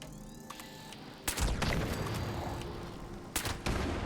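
Gunfire in the video game Fallout 76: a loud crack at about 1.3 seconds followed by a sustained roar and echo, then a second sharp burst near 3.4 seconds. The shots stand alone over a steady background hum, with no talk.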